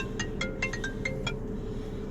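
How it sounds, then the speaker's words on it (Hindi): A mobile phone ringtone chirps in a short run of bright, evenly spaced electronic beeps over a steady low background hum, with no talking. "अरे किसका फोन आ गया?"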